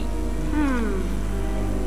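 A black cat in the LEGO Harry Potter video game lets out a single falling meow, moderately loud over steady game background sound.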